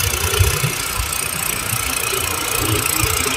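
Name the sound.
Massey tractor engine running in a field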